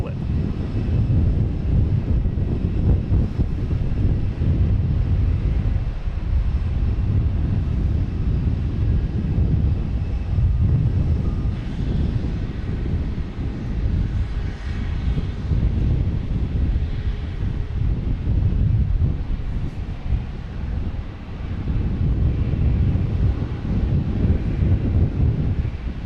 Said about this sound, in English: next to arrive, we have American Airlines and A320 coming in from Charlotte